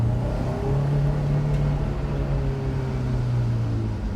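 A Honda S2000 accelerating at full throttle from low revs in first gear, its engine drone steady and loud throughout, close by with no talk.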